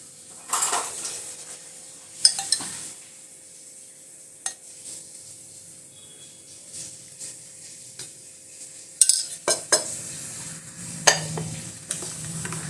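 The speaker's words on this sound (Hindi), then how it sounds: "अब इसमें डाल देंगे दही।" Curd mixed into a blend in a pot: a spoon clinks and scrapes against the vessel in sparse, irregular knocks, with soft stirring between them and no talk.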